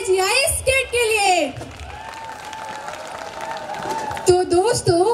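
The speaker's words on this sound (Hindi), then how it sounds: "तो एक बार जोरदार तालियां हो जाए एजीआई स्किट के लिए।" Audience at a college annual cultural festival applauding a skit, a soft wash of clapping and crowd noise in the middle, framed by an announcer speaking loudly over a microphone before and after.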